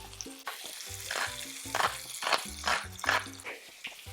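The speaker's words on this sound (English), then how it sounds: "Put in our garlic. As soon as the garlic turns a little golden, mix in your migas." Garlic frying in oil in a pan, a close sizzle broken by repeated scraping and knocking strokes of a utensil in an uneven rhythm, moderately quiet, no speech.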